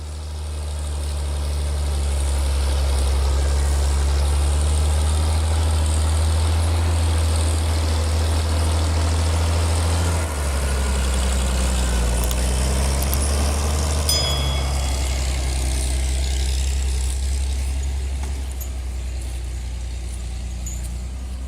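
A small home-made tractor's engine runs continuously close by, a deep, steady low throb that stays loud for a long stretch, then drops to a quieter idle with faint metallic clinks.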